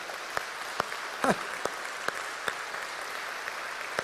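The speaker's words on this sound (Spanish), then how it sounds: "Hay un aplauso al Señor." Applause for the Lord at a church sermon comes as sparse, crisp individual claps spaced roughly every half second over a quiet room hum, fairly soft overall.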